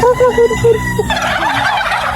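A turkey gobbles close and loud, a rapid warbling burst of about a second, followed by a brief noisy rustle.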